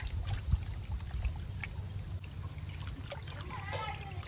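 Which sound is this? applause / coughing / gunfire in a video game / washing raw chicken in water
washing raw chicken in water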